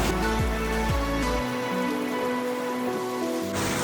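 Rain pours down in a steady hiss, loud and close, with a low droning tone beneath it for the first half.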